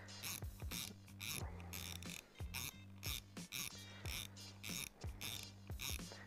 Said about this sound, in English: the first step for me is to take the spool off the reel